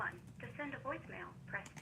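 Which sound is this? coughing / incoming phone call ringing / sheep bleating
incoming phone call ringing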